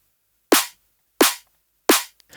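A layered snare with a parallel convolution reverb bus hits three times at a steady pace, each crack punchy and loud with a quick fading tail.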